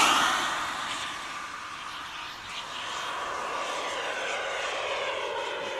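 Turbine-powered model MB-339 jet driven by a LintonJet X80 engine, throttle rising during a low pass on a breezy day; a steady loud jet whine and roar holds throughout, dipping slightly before swelling again.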